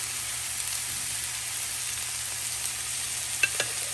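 Alexandrian-style beef liver grilling in a pan, giving a steady, close sizzle and hiss throughout, with a couple of light clinks near the end as the pieces are flipped.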